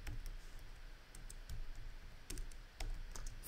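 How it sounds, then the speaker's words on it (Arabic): Faint, scattered key presses on a computer keyboard tick irregularly against a low background hiss while a game engine blueprint is being set up, with no one talking. "لما اضغط على الكيبورد زر رقم 3 شو بدي اسوي؟"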